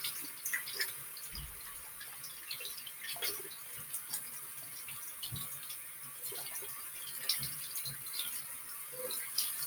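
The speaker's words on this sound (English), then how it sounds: "I'm gonna make sure the water gets hot before I do it." A bathroom tap runs into a sink as the water is left to heat up, a faint, steady hiss with scattered small drips and splashes, close by and alone.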